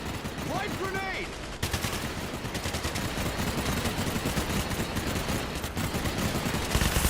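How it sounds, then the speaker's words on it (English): A frag grenade lands between barriers and explodes in the Quarantine Zone RTS zombie game, followed by a dense, continuous roar of rapid gunfire and blasts over a street maze, with a brief voice early on. "Frag landing in between the barriers"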